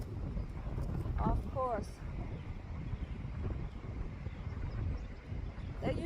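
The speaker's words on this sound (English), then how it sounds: "This wind is something, I tell you" Strong wind buffets the microphone outdoors on a homestead, a steady low roar that swells and dips throughout while a person talks over it.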